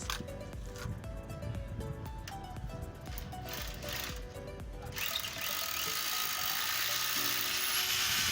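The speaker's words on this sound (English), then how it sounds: "we have to drill into the block with a 7-inch wall bit" A steady high-pitched power drill whines continuously, shifting to a harsher grinding tone partway through as a 7-inch bit bores into masonry wall block.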